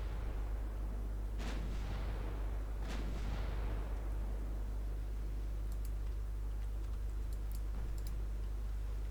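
Nine-inch naval guns fire in the naval video game Ultimate Admiral: Dreadnoughts, in an 1895 Norwegian campaign: two heavy booms a second and a half apart, each rolling off into a long fading tail over a steady low hum, followed by faint clicks.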